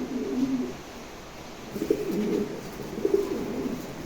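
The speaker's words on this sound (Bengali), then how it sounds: "আসলে এখানে এক জোড়া পমিনিয়ান আছে, দেখেন বিশাল বড় সাইজ, 9 কিলোর কবুতর" A pair of very large Pomeranian pigeons, a male and a female weighing about nine kilos, coo in low repeated rolling phrases, three clear bouts close by with brief quiet gaps between them.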